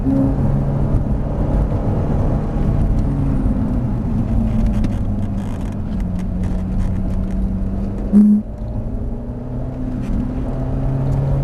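Loud, continuous engine drone from a Ferrari F458 Italia pulling away again on a circuit after braking, its pitch sagging and climbing, with a brief bump near the end.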